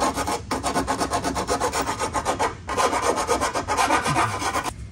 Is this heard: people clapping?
no